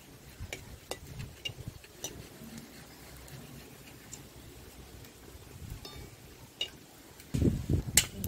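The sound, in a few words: dry chillies and cumin sizzling in mustard oil in a kadai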